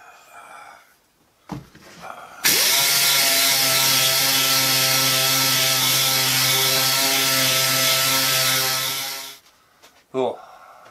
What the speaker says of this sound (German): Die werden jetzt verschliffen.